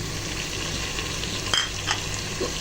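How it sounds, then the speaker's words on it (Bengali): Garlic lightly fried, then onion paste sizzling in a pan with a steady broadband hiss, a couple of brief stirring scrapes cutting through near the middle; no talking. "এক মিনিটের মতো রসুনটাকে হালকা ভেজে নিয়ে এখন দিয়ে দিচ্ছেন ওয়ান থার্ড কাপ পেঁয়াজ বাটা"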